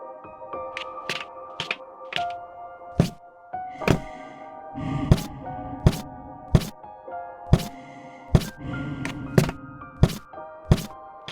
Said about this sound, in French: Je reconnais, c'est le bruit de mes escaliers